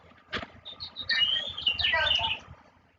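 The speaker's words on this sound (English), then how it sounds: "Those are loud freaking birds." Loud birds chirping in a rapid run of high tweets close by, building from scattered calls into a dense burst before fading.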